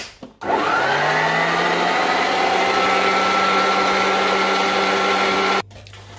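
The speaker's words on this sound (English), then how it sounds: "I'm now going to be adding my egg yolks, one yolk at a time, and then mix my egg yolk" An electric mixer whirs steadily as egg yolks are beaten into a coconut cake batter, running loud and continuous for about five seconds after a short start, then cutting off abruptly.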